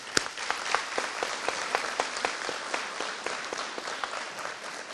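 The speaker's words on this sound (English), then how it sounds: "if we can give them another round of applause" Applause for training instructors at a corrections graduation ceremony, a steady wash of many hands clapping throughout with sharp individual claps standing out, fairly distant and even.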